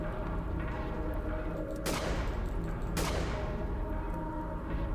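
Two sharp, loud gunshots crack out about a second apart while zombies are shot in the horror game The Glass Staircase, each followed by a brief decay over a steady background drone.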